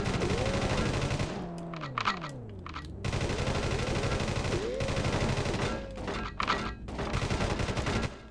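Rapid machine gun fire from the PS1 game World's Scariest Police Chases rattles in long sustained bursts over game engine and siren-like tones, with brief gaps between volleys.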